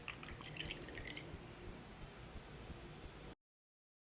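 Milk is poured into coconut oil for a homemade paçoca cake batter, a steady liquid splash and trickle lasting about three seconds before a sudden cutoff, with no talking.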